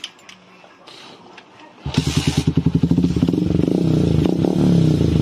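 A motorcycle with an overcharging electrical fault cranks over with a quick chugging rhythm, catches and settles into a steady close idle, preceded by a few quiet clicks.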